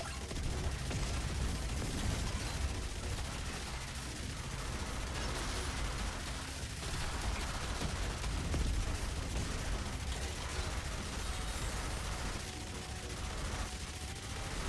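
Grenade trail explosions in the zombie survival game Yet Another Zombie Survivors burst in a dense, continuous barrage of gunfire-like pops and blasts that fill the whole stretch at an even, loud level.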